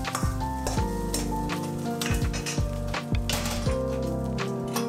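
Eggs sizzle and crackle in hot oil in a frying pan with a steady hiss, punctuated by metallic clinks and scrapes of a utensil against the pan.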